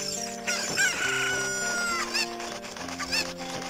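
Rooster crowing and clucking in the video game The Legend of Zelda: Ocarina of Time 3D, with a few loud crows rising over steady game music and softer clucks in between.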